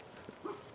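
A dog gives a brief, faint yip or bark near a tent on a rainy morning at a campsite in Kootenay National Park, a short muffled burst over steady background hiss.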